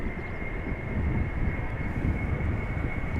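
An Embraer airliner taxiing at Amsterdam Schiphol gives a steady, even jet-engine roar with a constant high whine on top, held at a moderate distance with no voices.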